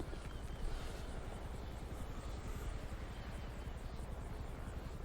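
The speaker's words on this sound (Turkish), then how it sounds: "Bir helikopter de var. Silahlı bir askeri helikopter." An armed military helicopter in GTA 5 gives a steady rotor throb and engine roar that holds at moderate loudness throughout, with no speech.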